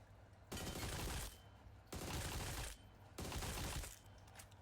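Three long bursts of rapid automatic gunfire from a weapon in PUBG Mobile, each lasting under a second, loud and close, separated by short quiet gaps.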